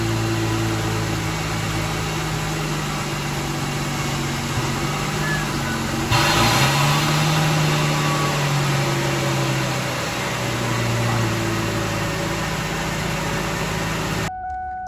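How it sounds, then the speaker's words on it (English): A Ford Mustang idles with the AC compressor switched on, a steady low engine hum under broadband fan-like hiss. Midway a louder whoosh comes in and a pitch dips and rises as the compressor engages, then the sound cuts off abruptly near the end. "Let's see if our AC compressor starts. Okay, let's turn on the AC."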